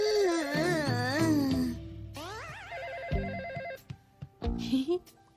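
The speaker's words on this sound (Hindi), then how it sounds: "मिर्ची देखो जरा, फोन बज रहा है।" A cartoon telephone rings with warbling, melodic electronic trills in several bursts, separated by short gaps and by other bright cartoon sound effects.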